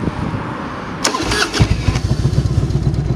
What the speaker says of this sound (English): Go ahead and fire this bad boy up real quick.